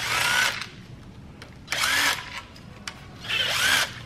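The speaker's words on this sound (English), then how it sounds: "breaking loose all these other bolts" Power tool on a rotary 13B engine breaking loose the front cover bolts: three loud, close bursts of whirring drill spin separated by quiet pauses and small clicks, no talking.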